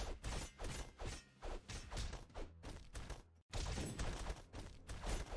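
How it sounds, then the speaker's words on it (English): Bombs go off in the brawler game Castle Crashers in a rapid run of punchy, booming blasts, loud and close, with a brief gap before more explosions follow. "Bombs."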